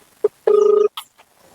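A telephone rings on an outgoing call: a short tone, then one longer steady ring, followed by a few faint clicks and quiet.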